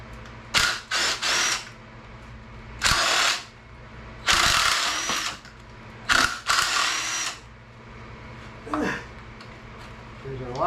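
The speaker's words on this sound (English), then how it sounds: "I'm going to use the impact because this wants to spin." Impact wrench spinning out bolts on a Ford 8BA engine during teardown, several loud close bursts of about a second each with pauses between, and a spoken voice in between.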